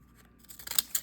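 A few quick, crisp snips of scissors cutting paper, starting faint and growing sharper, close up with no talking.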